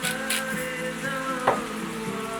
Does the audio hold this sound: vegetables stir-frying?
yes